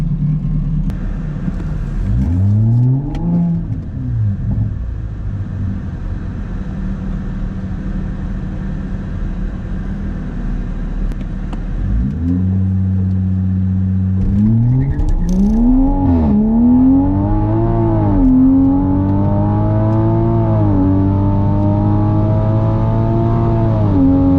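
A Toyota MK5 Supra on a drag strip makes a loud, close engine drone that idles and revs, then launches with rising, stepping revs through the gears and spins at the start, all without speech.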